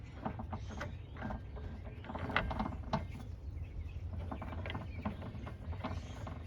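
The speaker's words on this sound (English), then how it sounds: "That noise you're hearing is just this thing rattling on this pivot down here" A loose part rattles on its pivot underneath a 2007 Cadillac DTS during oil filter housing work. The sound is a faint, steady, irregular metallic clatter and clicking with low rumble beneath, and no one speaks.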